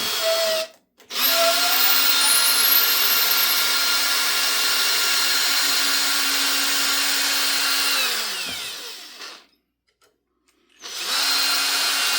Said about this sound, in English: I'm going to drill for feeder wires. And I have a very long drill bit.